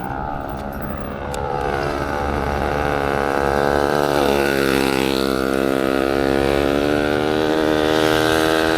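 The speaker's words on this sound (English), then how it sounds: "But this guy, Mark Mack, I hear a motorcycle on the trail, y'all." A motorcycle passes by on a dirt trail, its engine note rising steadily in pitch and loudness as it approaches and sweeps past, then holding a loud, sustained drone with no talking.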